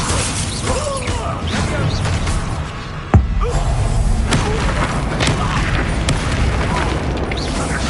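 A fire spell cast in the video game Hogwarts Legacy, a sharp crackling burst near the three-second mark that stands out over a dense, continuous bed of game effects and rumble.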